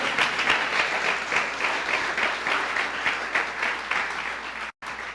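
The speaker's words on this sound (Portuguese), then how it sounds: "Dê uma salva de palmas ao Senhor" A church congregation gives a round of applause to the Lord during a service, continuous rolling clapping in waves, fairly loud, with a brief cut near the end.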